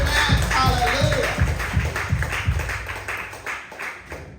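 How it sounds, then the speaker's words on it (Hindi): Congregation clapping together at a Hindi-language church service, a run of steady rhythmic claps close by, fading toward the end, with a voice calling out over them. "जोर से ताली बजाओ।"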